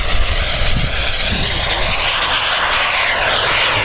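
A model turbine jet plane makes a fast, low pass over grass, its loud, steady jet roar and whine filling the air without a break.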